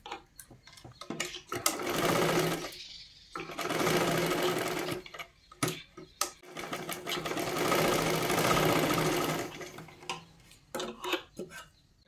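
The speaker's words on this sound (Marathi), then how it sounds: "फक्त हे असं मार्किंग करून घ्या आणि त्याच्यावरती शिलाई मारून घ्या।" A domestic sewing machine stitches a katori blouse in long, steady runs of rapid whirring and clatter, stopping and starting between bursts with light clicks and handling noise in the pauses.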